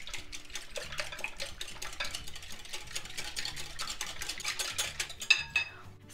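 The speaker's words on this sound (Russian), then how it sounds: "и это все взбалтываю." A whisk clinks rapidly and steadily against a bowl, beating eggs, salt and sour cream in a quick rhythm, with a brief metallic clatter near the end.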